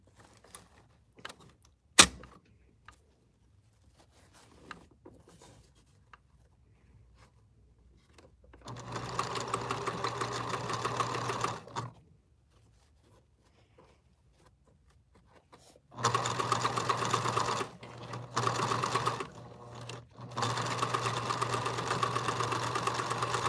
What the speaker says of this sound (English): We're going to sew it a little bit deeper